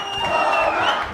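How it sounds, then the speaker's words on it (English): An ecstatic crowd at Zohran Mamdani's election night headquarters in New York City, heard as a loud, sustained mass of cheering and whooping voices rising and falling over a little over a second. "The crowd here is ecstatic."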